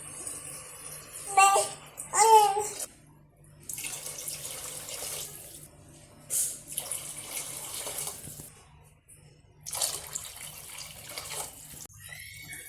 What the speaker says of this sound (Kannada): 4 ಲೋಟ ನೀರು ಆ್ಯಡ್ ಮಾಡ್ಕೊಳ್ಳಿ